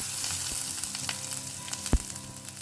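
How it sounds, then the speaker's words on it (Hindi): Half an onion, chopped, sizzles briskly in a pan for a Goan-style hog plum curry, a continuous close frying hiss broken by a few sharp spatula taps. "तो प्याज को ना मैंने 1 मिनट के लिए भून लिया है"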